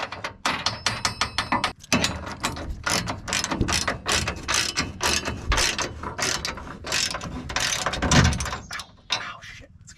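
Ratcheting wrench tightening a nut onto a trailer hitch bolt on a 1997 Ford Ranger, close and loud: rapid repeated metallic clicks in bursts over about ten seconds, with brief pauses between strokes.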